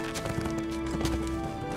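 Rhythmic horse hooves galloping in The Lord of the Rings Online, a steady clip-clop beat over a droning game soundtrack.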